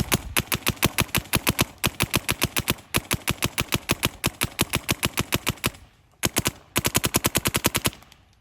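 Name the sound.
Shocker Era paintball marker firing with JT Triad loader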